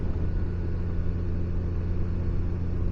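A 2024 Honda Goldwing DCT motorcycle engine running, a steady low rumble with a constant even hum, close and moderately loud, no voices.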